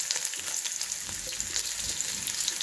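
Lentils and split gram sizzle in hot oil with mustard seeds and cumin, tempering for coconut rice; a steady, close frying hiss with faint crackles and light stirring, no voice.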